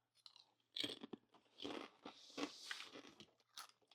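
Loud close crunching and chewing of an empty chip, several crisp bites and chews in quick succession with no talk.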